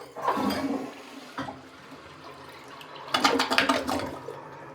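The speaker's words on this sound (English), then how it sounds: "And he even has a toilet. Let's flush it and see it in action." A toilet flushing in a church pastor's office, a rushing gush of water that briefly subsides, then surges again into a louder swirling drain.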